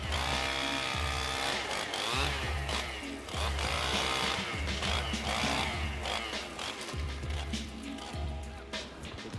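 A chainsaw drones steadily up close while cutting a tree, its engine revving in repeated surges, with voices speaking now and then over the noise.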